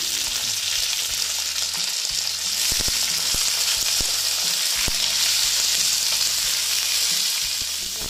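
Dalia khichdi sizzles in a pan with beans and turmeric while a spoon stirs it, a steady frying hiss broken by sharp clinks and scrapes of the utensil against the pan, with no voices.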